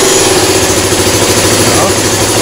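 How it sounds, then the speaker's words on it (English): A KTM Duke motorcycle engine idles loudly and evenly up close, a steady mechanical drone with no pauses. "Start natin yung motor."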